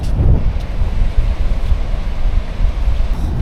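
Strong wind roars steadily across a beach during surf fishing, a constant loud rumbling gust noise buffeting the microphone, with the faint wash of surf underneath and no voices.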